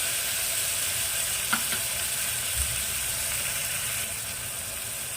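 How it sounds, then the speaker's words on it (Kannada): Chopped tomato sizzling and frying in a pan for a bottle gourd (lauki) sabji, a steady close hiss throughout with a couple of faint clicks of a spoon, no voices. "ಟೊಮೆಟೊನು ಅಷ್ಟೇ ಚೆನ್ನಾಗಿ ಫ್ರೈ ಆಗಬೇಕು ಟೊಮೆಟೊ ಫ್ರೈ ಆಗೋ ತನಕ ವೆಯ್ಟ್ ಮಾಡೋಣ"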